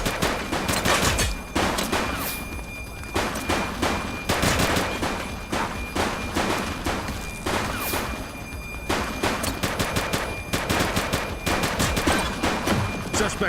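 Sustained gunfire from a police shootout in the video game The Precinct on PS5: dense volleys of rapid shots and bursts, loud and continuous, with short pauses between clusters and no talking.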